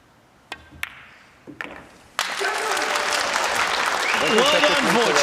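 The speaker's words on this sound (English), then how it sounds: "The biggest round of applause will follow the 9 ball going in for Szewczyk." Applause erupts after the 9 ball drops in a professional pool final at the UK Open, preceded by a few sharp ball clicks, then a loud, sustained crowd clapping with a commentator's voice underneath.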